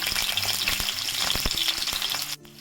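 Ginger and garlic sizzle loudly in a frying pan, a dense crackling hiss broken by occasional utensil clicks before it suddenly drops away near the end.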